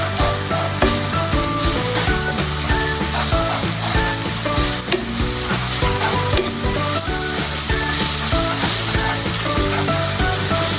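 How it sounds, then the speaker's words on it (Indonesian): Garlic sautéing in a pan for Semarang-style lumpia, a loud continuous sizzle with steady stirring and scraping close up, no talk over it. "Ini bawang putihnya kita tumis sampai harum terlebih dahulu ya."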